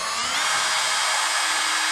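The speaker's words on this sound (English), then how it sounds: "we're going to line up our hole and just drill her on in." A power drill whines steadily at high speed, a loud continuous grinding buzz as it bores through the rear body of a Chevrolet Corvette C8 while fitting a spoiler, close to the microphone.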